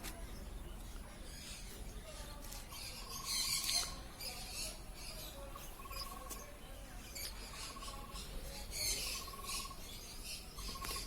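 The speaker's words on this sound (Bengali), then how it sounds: "এবারে লাভবার্ড দেখতে পাচ্ছেন" Lovebirds at an outdoor bird market in the rain chirp and squawk in short, scattered calls against steady background noise and crowd murmur, with brief louder bursts of twittering.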